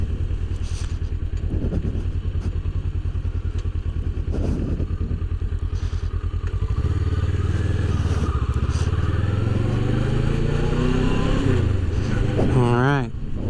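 A Kawasaki Versys motorcycle is ridden on residential roads; a steady, close engine drone rises in pitch as it accelerates toward the end, heard over wind noise from the rider's mounted microphone.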